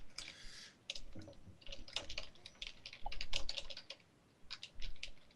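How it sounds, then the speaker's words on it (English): Rapid, uneven keystrokes tap across a computer keyboard in bursts with short pauses between them, close and clear, with no voices over them. "I hear typing."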